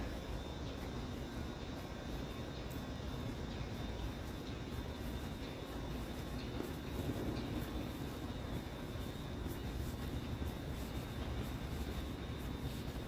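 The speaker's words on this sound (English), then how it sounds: "Express train." UP Express train passing through downtown Toronto in the evening, a steady low rumble with broad rolling noise that holds at a constant level for the whole stretch, mixed with general city background.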